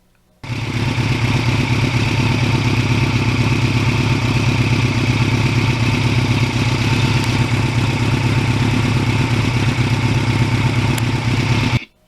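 A restored 32-year-old Kawasaki Ninja motorcycle engine starts abruptly and runs at a steady, loud, throbbing idle close by, then cuts off sharply near the end.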